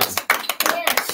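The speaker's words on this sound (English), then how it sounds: "I think we should give a big round of applause." A small group claps in a short burst, several sharp, close hand claps in quick irregular succession, with voices faintly mixed in.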